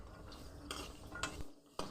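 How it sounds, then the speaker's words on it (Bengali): Jackfruit seeds stirred and fried in a pan over a low flame, a faint soft sizzle with a few scraping stirs of the spatula against the pan, close and quiet. "কাঁঠাল বিচিটা ফ্লেম কম দিয়ে ভাজতে হবে।"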